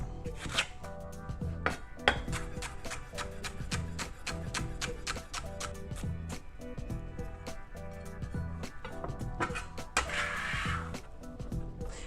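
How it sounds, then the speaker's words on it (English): A knife chops shallot and celery on a cutting board in quick, steady, close knocks that keep a regular rhythm throughout. "you can certainly just chop through them however you'd like"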